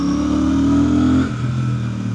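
A Royal Enfield Super Meteor 650 motorcycle accelerates hard while overtaking, its engine note climbing steadily before dropping sharply into a lower gear and settling into a steady, close, rumbling drone.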